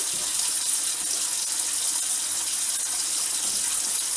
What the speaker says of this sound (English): Get my tap on cold water, so that way the water will be nice and cold